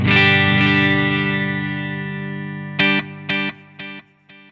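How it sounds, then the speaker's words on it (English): A sustained, buzzy synth note through a Boss SDE-3000D digital delay rings out and fades, then several short repeats of the same note echo back in quick succession, each slightly quieter. "we have the dry signal in the right hand side and the delayed signal in the left hand side"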